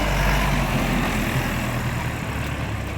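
A Dongfeng DF-404 G2 mini tractor with a cab runs steadily nearby, its diesel engine giving a continuous low chugging rumble at constant loudness, with no voices.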